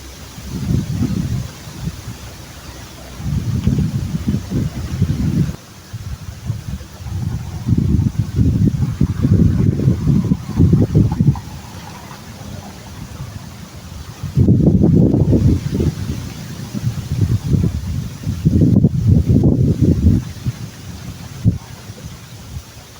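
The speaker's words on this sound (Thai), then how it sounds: "ลมดีมากเลยครับนั่นน่ะ" Gusty wind buffets the microphone outdoors beside a canal during a fishing trip, low rumbling bursts of several seconds each that come and go between quieter stretches, with no talking.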